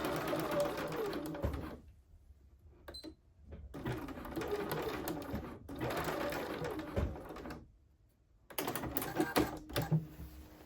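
A sewing machine stitches the side seam of a blazer in several close bursts of rapid, even needle chatter, separated by short silent pauses, at low volume.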